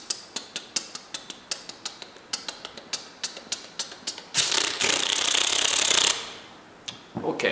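A voice imitates a drill with fast rhythmic mouth clicks that speed up, then blurs into a continuous hissing, buzzing burst before a few final clicks.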